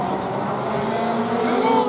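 Racing go-karts speed along the straight at the Karting New South Wales Speedway, a continuous loud engine drone with passing whine rising near the end, under steady race commentary.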